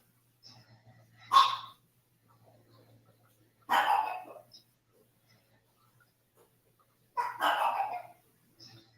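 Dogs bark in three separate short bursts, spaced a few seconds apart, somewhat distant against an otherwise quiet background.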